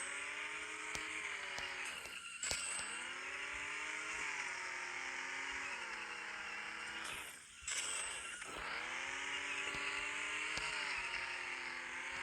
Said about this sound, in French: Petit drift dès le début.